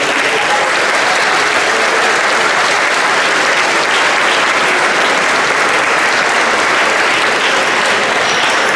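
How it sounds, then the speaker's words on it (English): Dense, steady audience applause fills the hall after a concert performance of a musical piece with narrators, a broad unbroken clatter of many hands sustained at full strength throughout. "Let's have another round of applause."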